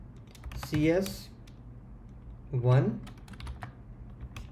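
Rapid clicking of keys on a computer keyboard, close and continuous, partly under a voice speaking briefly twice.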